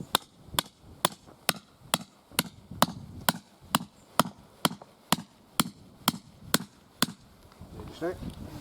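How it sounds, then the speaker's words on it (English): Steady hammer blows drive wooden pegs into the ground, about fifteen sharp strikes in an even rhythm, with a voice murmuring faintly toward the end. "I'll go around and give them a bit of the hammer in"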